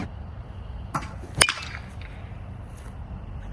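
A single sharp crack of a 2024 Stinger Missile S BBCOR baseball bat striking a ball, short and fairly dull like a thud, preceded by a softer tap, with quiet outdoor background.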